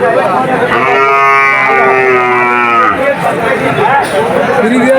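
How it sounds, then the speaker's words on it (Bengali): Cattle mooing at a busy livestock market selling calves, one long loud close moo lasting a few seconds over a constant murmur of crowd chatter and voices. "সুন্দর একটা গরুর হাট বিভিন্ন রকমের গরু এই হাটে দেখা যায়"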